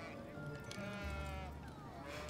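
A sheep in the video game It Takes Two bleats in a long wavering cry over game music, close and clear.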